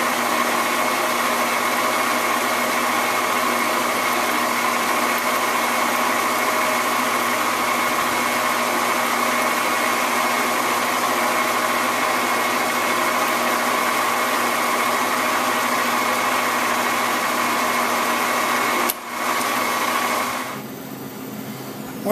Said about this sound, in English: we're going to do a little TIG welding now, so watch your eyes